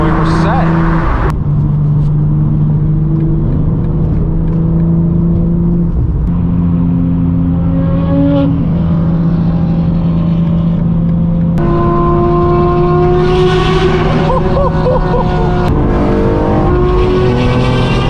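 Several supercars in convoy, V10s, a Porsche GT3 flat six and a BMW inline six S58/S55, drone loudly and steadily close by, with engine notes rising and shifting throughout and a voice talking over them.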